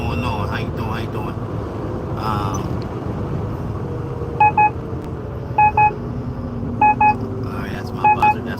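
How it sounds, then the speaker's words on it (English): An electronic buzzer sounds in short paired bursts, four times at regular intervals, sharp and tonal over a low background rumble, with a voice talking early on. "that's my buzzer"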